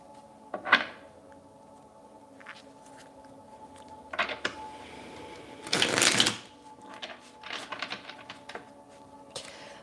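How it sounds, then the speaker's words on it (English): Traditional Rider-Waite tarot cards riffle and slide in short bursts of shuffling and pulling, with one longer, louder shuffle near the middle and soft card handling close by, no talk. "I'm going to pull a few traditional Rider-Waite tarot cards."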